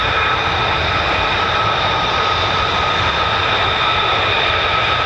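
F-35 fighter jets arriving at RAF Lakenheath produce a loud, continuous broadband roar with steady whining tones, sustained without a break and with no voices over it.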